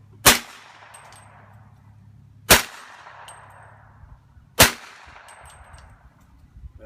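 A suppressed 300 Blackout short-barreled rifle fires three subsonic rounds outdoors, each a sharp, clanging crack about two seconds apart that rings and fades, heard close with no talking.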